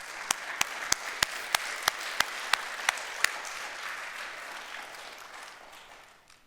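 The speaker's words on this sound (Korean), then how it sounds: "여러분 다 한번 박수하십시다" A large church congregation claps steadily for several seconds, dense and continuous, with a few sharper claps standing out early before it slowly tapers off.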